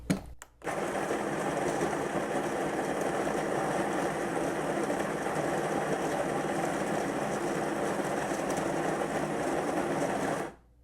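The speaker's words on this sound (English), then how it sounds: "Pause because I need to grind my beans." Coffee beans grinding in an electric grinder, a loud continuous whirring buzz starting after a brief click and running steadily for about ten seconds before cutting off.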